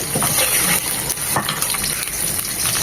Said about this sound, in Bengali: প্রথমে রসুন কুচি এক মিনিট হবে